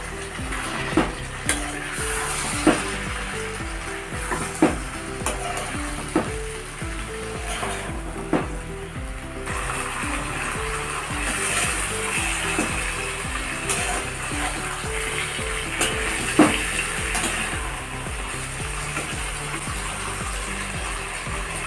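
Bitter gourd and drumstick pieces fry together with singi fish in a pan, a continuous sizzle with regular scraping and clacking strokes of the spatula, close and steady, with no talk.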